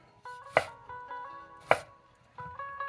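A knife chops vegetables on a board for red cabbage slaw, with three sharp, close cuts spaced about a second apart over a faint ringing background hum.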